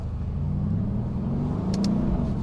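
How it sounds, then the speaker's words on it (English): A Mercedes-AMG GTS runs with its exhaust valves open, giving a steady deep rumble that builds slightly toward the end, with a couple of brief higher clicks near the finish and no talking. "So let's go ahead and open up that exhaust again."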